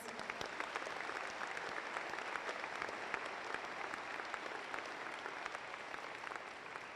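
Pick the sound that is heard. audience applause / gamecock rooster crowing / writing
audience applause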